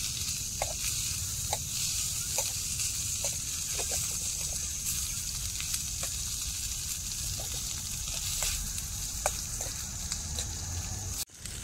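Chicken liver sizzles steadily in a pan for a pudina liver dish, a continuous close frying hiss with occasional small pops and stirring clicks, no talk.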